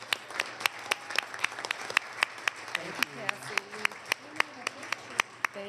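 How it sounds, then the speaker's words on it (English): Audience applause at a county board of commissioners meeting, a thin, uneven patter of claps from a modest crowd in a meeting room, steady for several seconds with a few voices murmuring underneath. "I would just like for you all to give her a round of applause"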